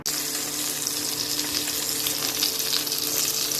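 Eggplant slices frying in a pan of oil, a dense, steady close-up sizzle with no talk over it.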